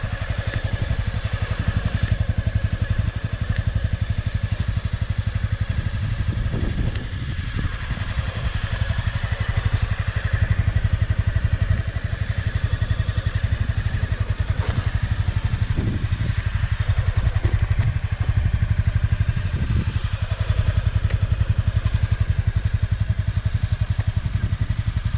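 Honda CBR300 motorcycle engine running steadily while a beginner practises clutch control, a loud close mid-pitched drone with slight revving and a few clunks, no talk.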